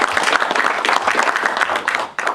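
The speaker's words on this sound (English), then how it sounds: "If you clap loud enough, Matt will hear you too." Audience applause at a user group meeting hosted by Farm Credit, dense and steady clapping from a crowd, fairly loud and close, with a brief dip near the end.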